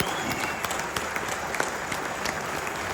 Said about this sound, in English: let's give them a nice big round of applause and a lot of love for John McGuinness